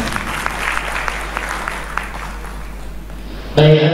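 Audience applause at a national working meeting of the UMI Foundation, a dense, moderately loud patter of clapping hands that cuts off abruptly near the end into a different sound.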